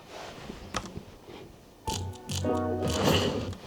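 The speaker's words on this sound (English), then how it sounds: "Those little clicks you hear is actually camera shutter clicks." Camera shutter click sound effects used in a music video, with a few sharp isolated clicks early on, then a busier cluster of mechanical clicks layered over a louder tonal backing.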